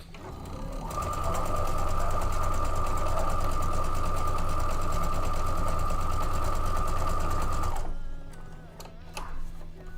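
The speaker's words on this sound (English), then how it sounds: "we should actually sew up all the half square triangles first and then come back and do the cutting and sewing together" A sewing machine stitching quilt half square triangles runs at a steady, even hum for about seven seconds, then stops, leaving a few faint clicks and handling sounds.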